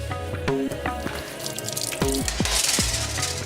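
Hands being washed under a running kitchen tap while a Goan fish dish is prepared: a steady, fairly loud rush of water with splashes and the clink of dishes, close by, with no talking.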